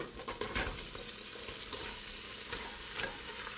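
Onions cooking down in a pot with butter and garlic, a steady close sizzle and crackle with occasional stirring clatter, no voices.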